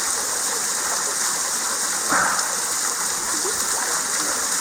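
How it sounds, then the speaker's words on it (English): A natural waterfall on St Lucia roars as a steady, broad rush of falling water, loud and close, with faint voices barely showing beneath it. "it's not often you can go in a natural waterfall"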